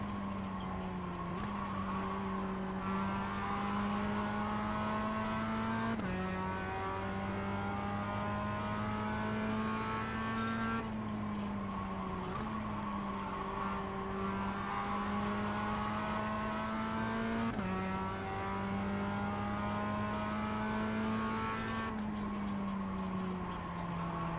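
NASCAR Cup Series race cars at Talladega, a steady engine drone with pitch that rises and falls in long cycles as the cars run at speed, continuous and fairly loud.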